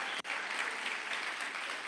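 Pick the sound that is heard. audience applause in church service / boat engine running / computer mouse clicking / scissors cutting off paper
audience applause in church service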